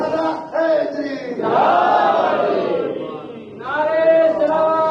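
A religious gathering crowd shouts its reply to the Naara-e-Haidari chant in unison, a loud chorus of voices rising in two or three swelling waves over about five seconds.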